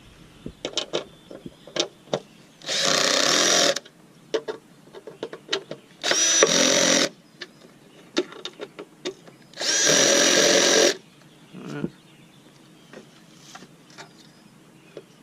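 A power drill runs in three short bursts of a few seconds each while tightening mounting nuts during a Humminbird Helix 12 fish finder installation, with clicks and handling noises in the gaps.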